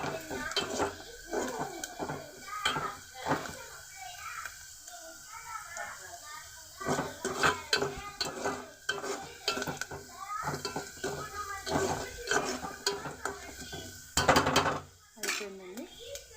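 Sun-dried vadiyalu fritters fry in a pan with a soft, continuous sizzle, broken by frequent scraping and clinking as a metal utensil stirs and taps against the pan.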